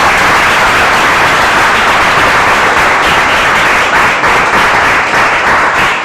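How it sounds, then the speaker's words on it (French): Dense, steady applause from an audience at a certificate presentation ceremony in Togo, honoring an elderly woman, loud and continuous throughout with no letup. "Applaudissez pour monsieur Martin."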